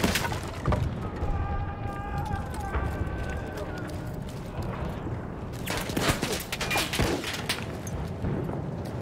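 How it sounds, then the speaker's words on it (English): Dense, continuous battlefield din of German machine guns firing in Battlefield 1, with repeated sharp bursts and cracks layered over a constant roar; someone speaks throughout. "The dozen German machine guns at my back kind of encouraged me to keep my head down."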